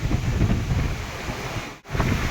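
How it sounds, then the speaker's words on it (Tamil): Strong, steady wind roaring across open sea on a sailing ship, with broadband rushing noise and surf, briefly cutting out near the end before resuming. "காற்று இவ்வளோ ஃபோர்ஸாக தான் அடிக்கும்"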